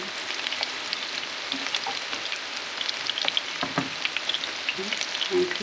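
Shrimp deep-frying in a pan of hot oil for crispy breaded prawns, a steady close crackling sizzle with scattered pops and bubbling throughout, no voices.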